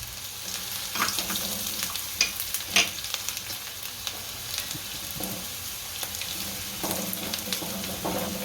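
Asafoetida and curry leaves sizzling in hot oil with chillies for a stuffed gunda dish, a steady close frying hiss broken by occasional crackles and spatters and light stirring clinks throughout.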